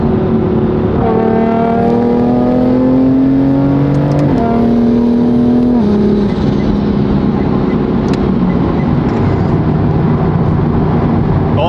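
A 2.4 liter BMW M4 built by 4N Motorsport revs hard and loud, its engine pitch sweeping upward then dropping in stages over a sustained, close roar, with a voice faintly beneath.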